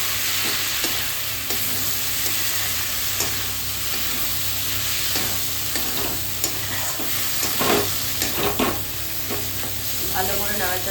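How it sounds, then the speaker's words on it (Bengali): Egg bhujia being stirred and fried in a pan for chowmein, with a steady sizzle and repeated scraping strokes of a spatula throughout, close and fairly loud, without talk. "ভালো করে নাড়াচাড়া করে নিচ্ছি।"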